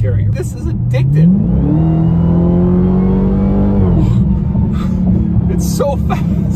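A 2020 Dodge Charger Hellcat accelerating hard, its supercharged engine note climbing in a loud, close rising drone that holds, then drops back, heard from inside the car with some background noise.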